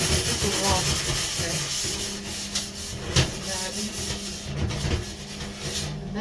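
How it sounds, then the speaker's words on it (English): A grill pan scrubbed with a Brillo pad in a kitchen, continuous rough back-and-forth rubbing with gritty rasping strokes, close and loud throughout. "just using the Brillo pad to get off, giving it a good"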